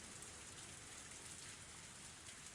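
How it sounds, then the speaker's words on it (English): Rain in the Higurashi When They Cry visual novel, a steady, even downpour hiss with dense patter on surfaces, constant and unbroken throughout. "I started running through the rain"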